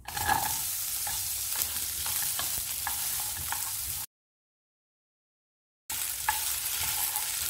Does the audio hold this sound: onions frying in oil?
yes